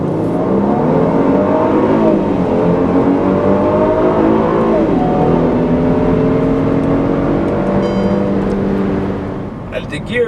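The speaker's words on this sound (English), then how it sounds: "You got a quite good sound of the engine." A Mercedes-Benz C-Class engine, a C350 or C300 in sport mode, revs loudly up and down through rising and falling sweeps, steady and close for about ten seconds before easing off at the end.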